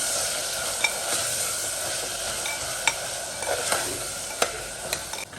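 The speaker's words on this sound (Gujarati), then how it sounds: "Swab अनुसार नमक ઉમેરી અને સરખી રીતે હલાવી લઈએ" Cluster beans and potatoes frying in a pan with salt as they are stirred, a continuous soft sizzle broken by light clicks and scrapes of the spoon.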